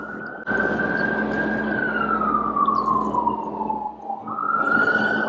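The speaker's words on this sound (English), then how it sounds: "nothing like the sound of fire trucks in downtown Toronto" A fire truck siren wails loudly through downtown Toronto, its pitch sweeping slowly down then cutting out briefly before rising again, steady and close throughout.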